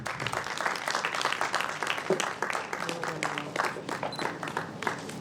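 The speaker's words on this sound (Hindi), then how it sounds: "एक बार जोरदार तालियां हो जाएं सभी के लिए" An audience at a youth awards ceremony gives a sustained round of applause, a dense, fairly faint patter of many hands with some voices mixed in.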